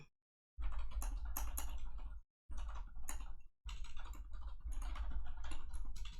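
Rapid typing on a computer keyboard, close and clear, in three dense bursts separated by brief silent pauses, with clattering keystrokes and no talk.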